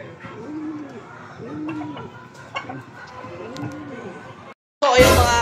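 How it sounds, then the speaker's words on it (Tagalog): Rooster calls at a cockfight venue repeat three or four times at a moderate level over a background murmur, and a sudden loud burst of talk cuts in at the end. "So ayun yung ibon."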